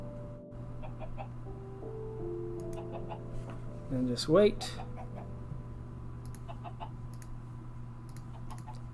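Chickens cluck a few times in the Minecraft Stoneblock modpack, with one brief cluck or squawk burst standing out in the middle. Someone talks briefly and keyboard or mouse clicks are scattered throughout, all over a steady low hum.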